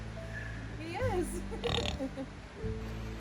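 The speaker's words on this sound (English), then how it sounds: "Hey, pig." A pig at a mountain farm museum grunts and oinks in a few short bursts, close and fairly quiet, mixed with a voice talking to it.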